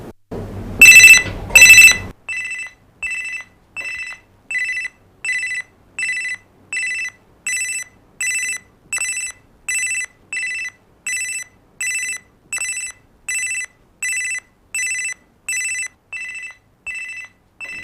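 A telephone rings in a room scene from a Hindi TV serial, a short loud burst at the start and then a long regular series of electronic double rings, each evenly spaced with quiet between them.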